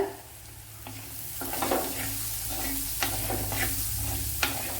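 Fennel seeds crackle and sizzle in hot oil while a dried fish curry is cooked, with a steady frying hiss under irregular scraping stirs from a spoon against the pan.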